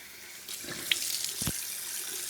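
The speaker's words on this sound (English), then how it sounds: "Then I rinse it all off." Tap water running into a sink while a face is rinsed clean, a close splashing gush that starts abruptly, with brief slaps of water against skin before it cuts off.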